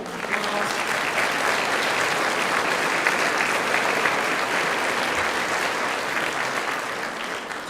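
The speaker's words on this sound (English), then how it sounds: "So we need to give that group of people a round of applause." Sustained audience applause at a Teacher of the Year banquet, a steady wash of many hands clapping at moderate volume throughout with no talk over it.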